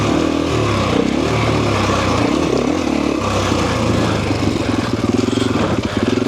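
A Husqvarna FE 501 four-stroke dirt bike engine runs loud and close throughout, its low thumping note rising and falling as the throttle is worked.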